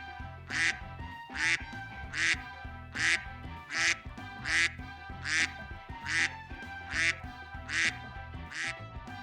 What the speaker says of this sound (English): And now the sounds of ducks, accompanied by ill-fitting music.